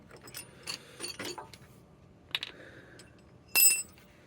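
Metal clinks and ratcheting clatter from pulling an old sway bar link off a 2008-2014 Chevrolet Silverado, with scattered faint knocks and a brief louder metallic clank near the end.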